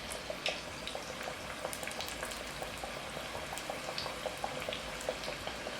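Eggs deep-frying in hot oil give a steady, close bubbling sizzle with small pops crackling through it, continuous and even throughout.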